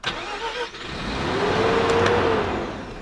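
Used Mazda RX-7 FC with a rotary engine, troubled after a long drive, revs unevenly up and falls back, a steady, fairly loud mid-pitched engine note rising over about two seconds and then easing off.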